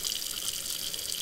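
Water runs steadily from a tap or is poured in a continuous hiss-like stream, bright and close, with no pauses over its short span and no voices.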